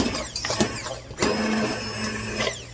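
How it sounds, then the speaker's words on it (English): A food processor grinds frozen strawberries for strawberry rhubarb jam, with a loud, close motor whir that runs in bursts and changes pitch as the fruit breaks up. "I just want to grind these big strawberries up"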